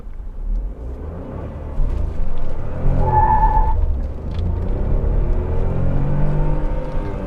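Tata Nexon turbo petrol car pulling away hard from a standstill with a little wheel spin, a loud steady engine rumble building and holding, with a brief high tire chirp midway.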